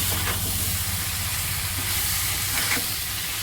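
A mixture poured into a hot pan sizzles as it cooks, a loud, steady hiss with a few faint clicks, close by and with no one speaking.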